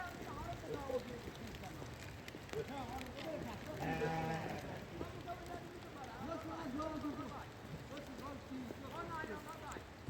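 A flock of sheep bleats in the hills, several short wavering calls scattered across the scene at moderate distance, heard beneath someone talking quietly over soft outdoor ambience.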